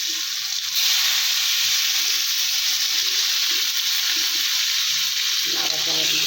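Pointed gourds fry in hot oil in a wok, giving a steady, close sizzle that carries on throughout, with faint low clatter under it.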